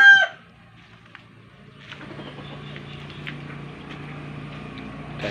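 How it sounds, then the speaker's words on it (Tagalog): Chickens and roosters in a rural yard in Mindanao, with a loud burst near the start, then a steady mix of clucking and farmyard chatter that continues at moderate level throughout. "Yan yung mga manok nila dito."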